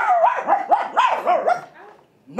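A dog barks loudly several times in quick succession at a live stage show, with yelping, whimpering tones and a pause before one last bark.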